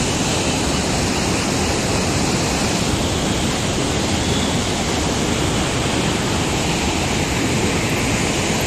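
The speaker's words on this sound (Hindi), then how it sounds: "ये पीछे आटे की चक्की है और ये पानी का प्रेशर पड़ता है तो वो चलती हैं" Rushing water from the channel that powers a watermill's flour grinders, a steady, loud, broadband roar that continues without a break throughout.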